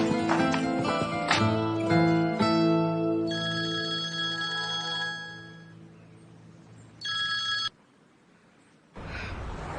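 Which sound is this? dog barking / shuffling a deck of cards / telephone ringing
telephone ringing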